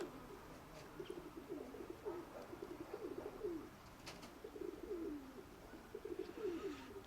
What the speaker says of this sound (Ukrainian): та він такий клятий вже голуб